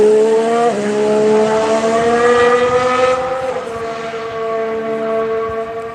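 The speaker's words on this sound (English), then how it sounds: "here's the Ferrari again" A Ferrari race car at speed on the Barcelona circuit during testing, its high-pitched engine whine loud and close, dipping sharply on a gear change then climbing and falling again as it passes.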